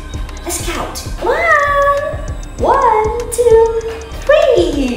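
A cat meows three times, clear drawn-out cries at a steady pace, close and fairly loud over a light background noise.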